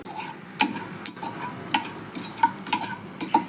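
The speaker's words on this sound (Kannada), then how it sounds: "ಒಂದು 4ರಿಂದ 5 ಸ್ಪೂನ್ ಎಣ್ಣೆ ಹಾಕ್ಕೊಂಡು ಅದಕ್ಕೆ ಎಣ್ಣೆ ಕಾದ್ಮೇಲೆ 1/4 ಸ್ಪೂನ್ ಸಾಸಿವೆ ಹಾಕ್ಕೊಳ್ಳಿ" Mustard seeds crackle and pop in hot oil in a pan for a taro root sambar, sharp scattered pops over a soft continuous sizzle, close and fairly loud.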